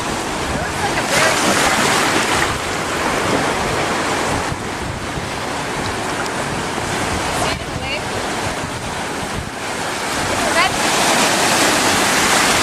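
Ocean surf breaking steadily at Caminada Pass, Louisiana, a continuous loud wash of waves with surges rising and falling, roughened by wind buffeting the microphone and no talk over it.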